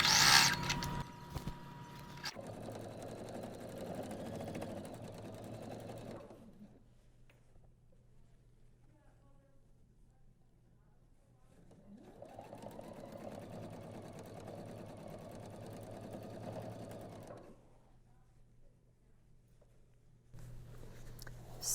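A sewing machine stitches fabric binding onto a bedside pocket organizer at a quarter-inch seam, running in two steady whirring bursts of several seconds each with a quiet pause between, close and alone.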